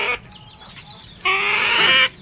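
A hen's drawn-out, squawky cluck, close and loud, following a shorter call at the start.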